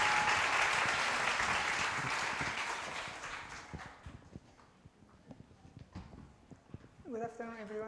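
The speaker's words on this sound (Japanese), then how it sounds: "盛大な拍手を持って私たちこのセミナー始めてまいりましょう。" Loud audience applause opening a seminar fills the opening seconds, then fades into scattered claps and murmurs before a voice begins speaking near the end.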